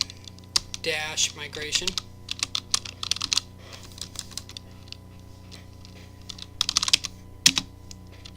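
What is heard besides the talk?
typing a command on a computer keyboard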